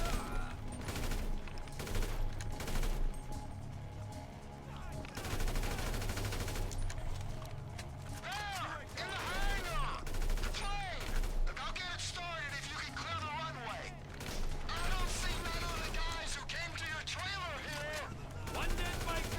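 AK assault rifle fire in GTA 5 comes in repeated rapid bursts under near-continuous talk and game voices, loud and busy, with sweeping tonal sounds in the middle.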